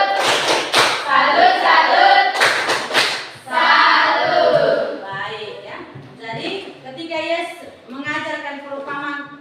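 Children in a classroom clap their hands in two short, sharp bursts, then their voices rise in a loud, rhythmic group chant.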